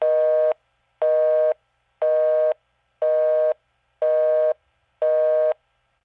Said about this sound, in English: Busy signal at the very least.